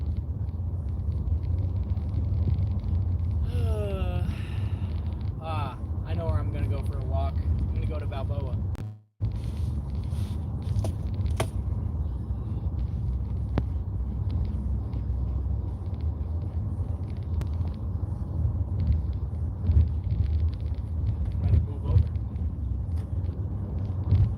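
Car driving on the road heard from inside, a steady low engine and road rumble throughout, with a brief cutout midway and a voice talking over it.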